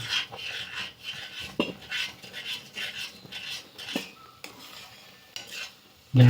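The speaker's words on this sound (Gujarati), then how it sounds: "આ ગરમ પાણી છે તે ગરમ પાણી હું અંદર એડ કરું છું ને આને બરાબર હું મિક્સ કરી લઈશ" Bajra (millet) flour halwa in a pan over a lowered gas flame is stirred as hot water goes in: continuous close scraping and rasping strokes with occasional sharper clinks, ending in a loud thump.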